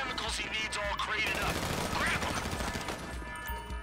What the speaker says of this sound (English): Tuco and I have Tommy guns